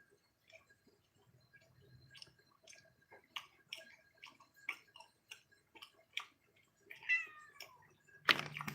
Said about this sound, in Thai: อะไรแล้วแมวกินไม่ได้